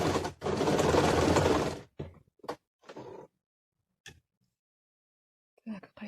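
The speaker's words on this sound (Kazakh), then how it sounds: "Түзу тігіспен тігіп." A sewing machine runs a straight seam in one steady burst of about two seconds, then gives a few short stitching bursts and clicks with pauses of near silence between them.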